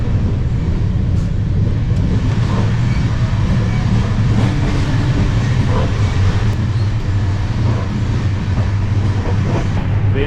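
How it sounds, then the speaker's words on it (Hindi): The Rewanchal Express runs at full speed near Sagar station, heard from inside an AC coach as a loud continuous rumble and roar with faint clickety-clack, steady throughout. "ट्रेन पूरे रफ्तार में चल रही है।"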